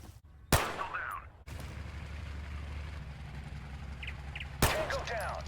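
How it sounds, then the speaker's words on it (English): Two sharp, loud rifle shots from a scoped Mark 14 in a tactical combat game, spaced about four seconds apart, each followed by a ringing echo over a low engine-like hum. "Let's go shoot a Mark 14 with a scope."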